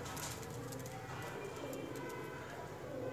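Breeder pigeons cooing in a loft, a steady low murmur of soft coos from several birds with background noise and a voice speaking over them.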